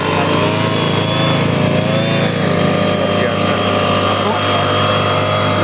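Small two-stroke petrol engine of a motorized crop sprayer, run on an oil and petrol mix, in a rice-farming setting. It drones loudly and steadily throughout, with people talking close by.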